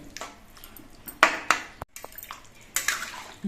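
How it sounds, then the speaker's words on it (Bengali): A metal lid is set onto a cooking pot of papaya shukto curry, close by, giving a few sharp clinks and a ringing metallic ping with small rattles in between, and no voices. "এবার একটা ঢাকনা দিয়ে ঢেকে দিচ্ছি"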